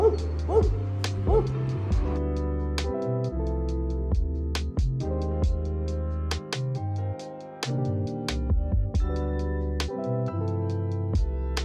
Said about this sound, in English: Joy, barky dogs.